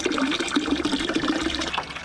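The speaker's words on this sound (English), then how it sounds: "this water is coming out pretty clear now" Water drains out of a boat in a steady rushing, gurgling flow, close and continuous.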